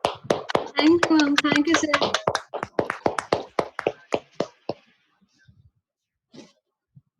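Hands clapping for a presenter at the close of a nutrition meeting, a run of distinct claps with voices briefly speaking over them, tapering to a few isolated claps and then quiet.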